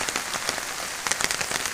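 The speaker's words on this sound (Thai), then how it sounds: "ฝนตก ดีครับ ฝนตกดี" Rain falling on a morning mountainside at Phu Wiang, a dense steady patter of drops on surfaces with brief louder splashes, close and continuous, no voices.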